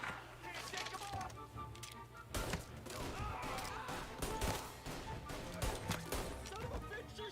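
Gunfire in the Mafia video game: rapid bursts of shots and sharp cracks over busy game sound, with a voice speaking over the action.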